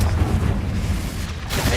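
A Confringo spell in Hogwarts Legacy detonates as a dense, booming blast that fills the whole moment with heavy low rumble, loud and close.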